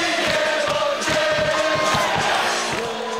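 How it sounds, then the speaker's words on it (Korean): Lotte Giants baseball fans roar in unison at Sajik Stadium in Busan, waving plastic bags, a dense continuous crowd shout with rhythmic chanting swelling and pulsing throughout. "비닐봉투를 들고 조직적으로 흔들며 질러대는 함성은 부산에서만 볼 수 있는 진풍경이다"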